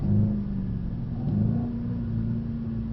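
A car engine revving up as the driver gets back on the power after turning in, a loud rumbling roar that rises and sustains, with no talk.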